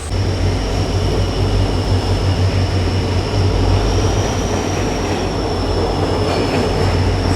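A diesel-hauled passenger train rumbling loudly and steadily close by, deep engine drone with a faint high whine running over it, no let-up.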